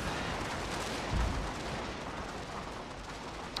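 Gunfire from massed Prussian troops in a strategy video game battle, a continuous rumbling volley of musket shots and booms, loud and dense throughout, no talk.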